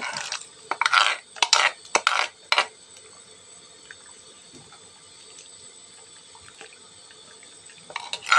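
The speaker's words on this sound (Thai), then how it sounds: "แล้วก็จะใส่เครื่องแกงลงไปเลย เครื่องแกงที่เราเตรียมไว้เทลงไป" Curry paste is poured from a container into a pot of boiling water with tamarind leaves and lemongrass, giving several short splashing, sloshing bursts up close, followed by a quieter bubbling simmer.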